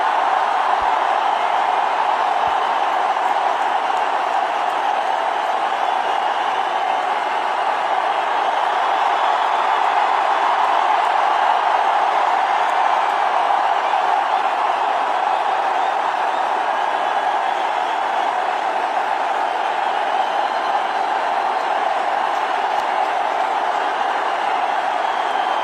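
A cricket stadium crowd cheers in a broad, sustained roar that stays steady and loud for the whole stretch, with no single voice standing out.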